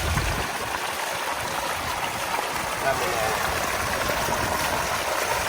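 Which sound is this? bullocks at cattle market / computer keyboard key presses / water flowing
water flowing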